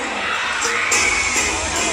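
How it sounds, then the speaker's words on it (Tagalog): A festival crowd of supporters cheering and applauding in a dense, steady roar of clapping and shouts, loud and continuous throughout. "Again, masiglang palakpakan at sigawan."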